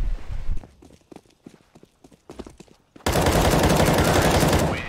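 Gunfire in an online shooter video game: scattered sharp shots crack out over the first three seconds, then a dense, loud burst of rapid automatic fire fills the rest of the clip.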